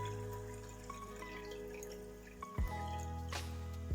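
Rice tonic water is poured into a vessel, a faint, quiet trickle and a few drips with a soft splash near the end, and no one speaking.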